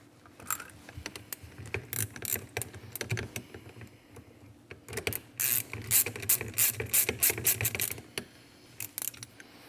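A ratchet clicks rapidly in bursts while tightening aluminum bolts on a KS GTC suspension fork, crisp close-up pawl ticks in several quick runs with brief pauses between them.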